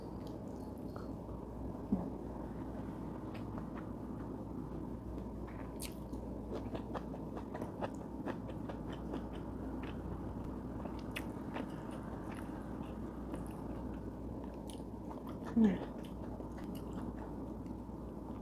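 Close-up chewing of leftover stir-fried long beans with shrimp paste, soft wet crunches and bites repeating in an irregular rhythm over a quiet room background, with one sharper bite near the end.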